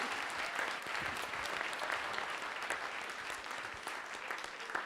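A conference audience applauding warmly, dense even clapping from many hands that carries on steadily throughout, fairly close.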